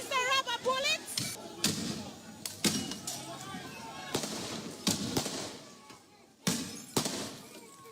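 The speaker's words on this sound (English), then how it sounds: "Okay, that's the rubber bullets." Sharp bangs and thuds from police firing rubber bullets at protesters during street clashes in Roseau, Dominica, go off irregularly amid crowd noise and shouting voices.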